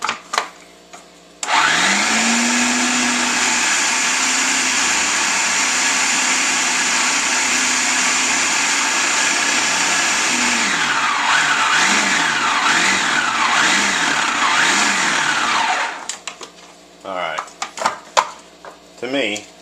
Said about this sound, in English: I think it's just hard on a food processor to try to make pizza dough